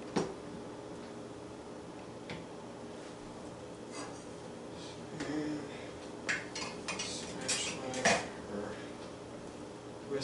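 Metal utensils, a whisk, a spatula and a measuring cup clink and rattle as they are set into a bowl of sanitizing solution for beer brewing, with scattered close knocks and a busier cluster of clatter near the end.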